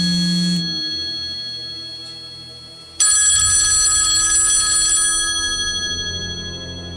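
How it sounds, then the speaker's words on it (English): A phone rings repeatedly with a bright, electronic bell-like trill. A short tone opens, then a louder, sustained burst of ringing starts partway through and slowly fades, with no voices. "She was awoken by her phone ringing repeatedly"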